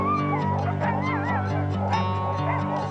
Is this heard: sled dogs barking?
yes